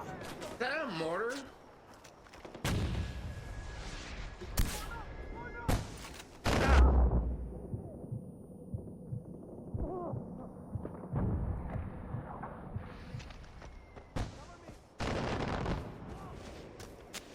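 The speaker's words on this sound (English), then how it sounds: "Is that a mortar?" Mortar shells fire and burst in the Far Cry 4 video game: scattered booms and sharp blasts, one especially heavy near the middle, mixed with other gunfire and game noise.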